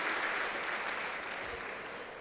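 Sustained applause from a seated audience honoring a trustee at a foundation gathering, a dense, steady wash of clapping that stays loud throughout and fades only slightly toward the end.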